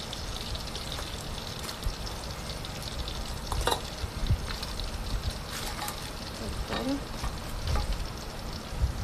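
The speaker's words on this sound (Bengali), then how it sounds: "মাছটাকে এখন কুক করব।" Salmon coated in egg, cornflour and breadcrumbs fries in a pan with a soft, continuous sizzle, broken by occasional stirring clinks and bursts of spatter, fairly quiet and close.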